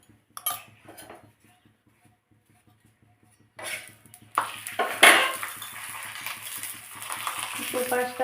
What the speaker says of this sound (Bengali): দু পাশটাতে অল্প অল্প করে সাদা তেল দিয়ে আমি ভালোভাবে ভেজে নেব।